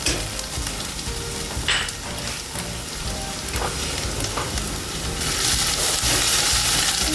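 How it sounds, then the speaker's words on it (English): Garlic frying in a pan for Mediterranean rice as it is stirred, a dense, continuous close sizzle with occasional scraping and a louder crackle near the end. "I'm gonna get my garlic in here. Gonna get that all nice and fragrant."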